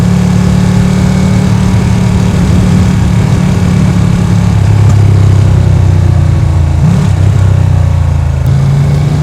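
Ducati Panigale V2 sport motorcycle on Pirelli Rosso tyres, its engine droning loudly and steadily while riding, with a slight shift in pitch partway through and constant wind rush over it.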